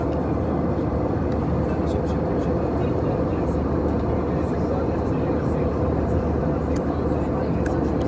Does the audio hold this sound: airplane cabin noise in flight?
yes